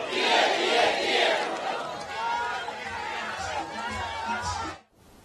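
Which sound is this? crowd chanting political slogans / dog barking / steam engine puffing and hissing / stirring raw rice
crowd chanting political slogans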